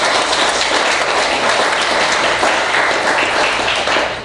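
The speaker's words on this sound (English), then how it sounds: "How about some applause for the Lockport Township Republicans" A crowd at a Republican Oktoberfest gathering gives loud, sustained applause, many hands clapping together in a thick, steady roar.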